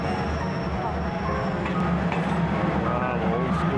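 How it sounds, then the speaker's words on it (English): An old passenger train pulls into a station on the line between Bangkok and Ayutthaya in Thailand, a steady loud rumble of wheels and carriages with faint metallic clinks, continuous and close throughout. "Finally, our train has arrived."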